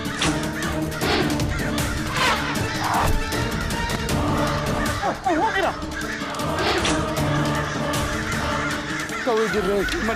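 Crows caw loudly and repeatedly in a dense, overlapping flock chorus, heard over a busy background of dramatic music and shouting voices during a battle scene.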